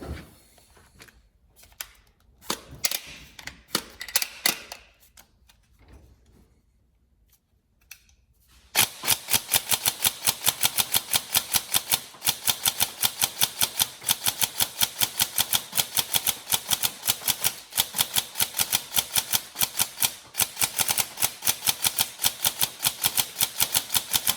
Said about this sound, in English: we'll stick a bunch of rounds through now, just make sure everything's solid